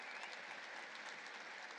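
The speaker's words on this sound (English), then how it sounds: "We can applaud him." An audience applauds steadily at a Paris event welcoming Captain Paul Watson, a dense, even wash of clapping hands with no talk.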